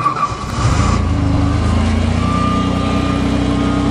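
A Nissan Stanza's engine turns over and catches on a cold start, settling into a steady low rumbling idle with a faint whine above it, close and continuous.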